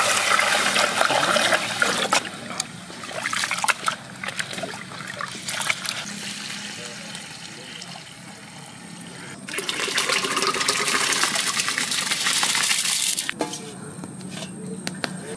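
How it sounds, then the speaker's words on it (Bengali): Masoor dal lentils are rinsed in water in a village kitchen, with running water and splashing and swishing that rise and fall across the stretch, fairly close. "মুসুরির ডাল, ভালো করে ডালটাকে ধুয়ে নেব।"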